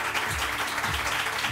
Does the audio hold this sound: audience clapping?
yes